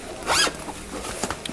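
A water-resistant zipper on a Black Ember backpack is pulled open close up: one quick, loud zip stroke followed by several shorter, fainter tugs.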